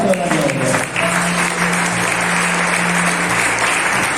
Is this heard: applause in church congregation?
yes